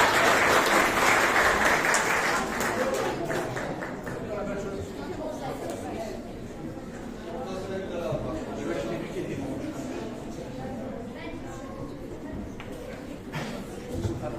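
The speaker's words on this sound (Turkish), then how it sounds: "alkışlarınızla" Audience applause at a summer science and engineering camp certificate ceremony as students come on stage, strong clapping at first that thins into steadier background clapping while a voice talks over it.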